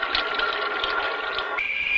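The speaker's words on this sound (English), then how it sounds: "It's the sound of running water." Running water hisses in a steady, broad rush for about two seconds, fairly close and constant, with a brief thin tone creeping in at the end.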